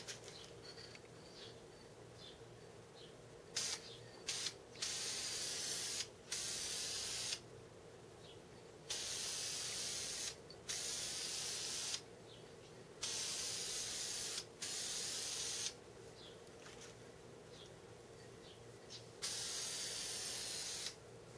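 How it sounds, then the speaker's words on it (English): Spray paint coats a PSE Impala recurve bow part in a series of about eight short, loud hissing bursts separated by brief pauses, with no talking. "So we'll give it a coat, and we'll hang them up and let them dry."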